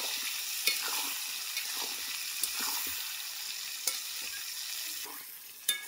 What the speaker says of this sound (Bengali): এবার আমগুলো দিয়ে ভালো করে ভেজে নেব একটু তেলের মধ্যে।